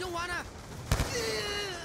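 A single sharp gunshot crack cuts through a Call of Duty match on console, brief and loud amid game sounds, while a voice speaks over the action.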